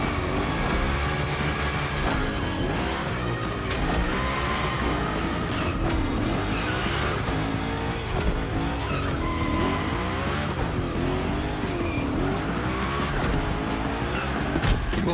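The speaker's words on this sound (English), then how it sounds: "we're gonna rough up the Hoonicorn a bit. We're focusing on Gymkhana essentials, big slides, and precision." The Hoonicorn car in a gymkhana video game roars and slides continuously, with loud engine revs and repeated tire squeals across a dense, unbroken stretch of racing sound.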